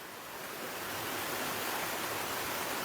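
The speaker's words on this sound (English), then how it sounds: "See over there the waterfall." A waterfall among the lakes of Plitvice National Park sends up a steady broadband rush of falling water that swells slightly and then holds even, with no voices over it.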